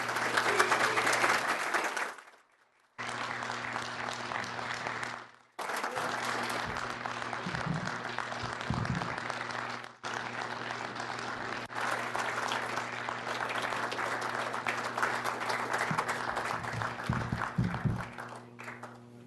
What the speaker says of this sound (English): So if we could have a retirement round of applause for Magnum and his handler.